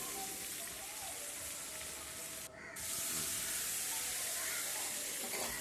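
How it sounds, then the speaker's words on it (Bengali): Prawns frying in hot white oil in a wok, a dense, steady sizzling hiss that fills the clip, close and even, with a brief dip midway. "কড়াতে তেল দিয়েছি তেলটা গরম হয়ে গেছে সাদা তেলেই মাছগুলোকে করব মাছগুলোকে তেলের মধ্যে দিয়ে দিলাম"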